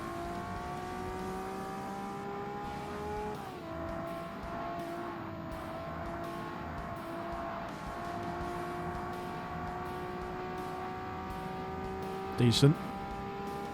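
A race car engine in Forza Motorsport holds a steady high drone in third gear with smooth pitch shifts, close and continuous, while someone talks over it and a brief sharp burst comes near the end.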